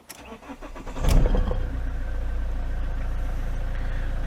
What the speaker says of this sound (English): Let's see if it'll actually start.